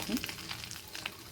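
Fish roe fritters fry in oil, a faint, brief crackling sizzle with scattered pops.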